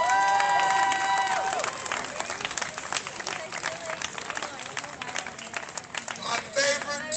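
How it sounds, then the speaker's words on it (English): Protest crowd at night in Portland clapping and cheering, with shouts and whoops rising over continuous applause for several seconds, while a voice talks near the start. "Can we get a round of applause?"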